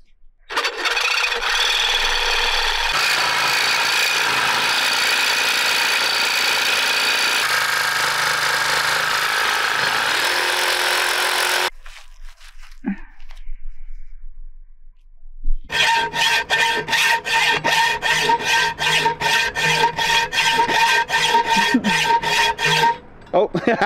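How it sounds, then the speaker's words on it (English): Reciprocating saw fitted with a very small blade cuts through a timber-frame porch beam, a loud continuous rasping buzz that pauses briefly midway, then resumes with a rapid rhythmic chatter. "for now I've got this hilariously small blade in my sawzall"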